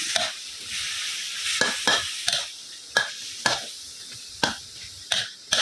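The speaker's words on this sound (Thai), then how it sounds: "พัดให้หอมๆเลยครับพี่น้องเนื้อติดมัน" Fatty beef is stir-fried in a hot pan under a constant close sizzle, punctuated by about ten sharp scraping and clanking strokes of a spatula in an uneven rhythm.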